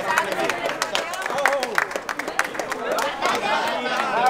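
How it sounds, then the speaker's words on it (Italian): Clapping from spectators at the award ceremony for the Sant'Anna 2019 footrace, sharp hand claps mixed with crowd chatter and talk over them. "facciamo un applauso a Maria Grazia"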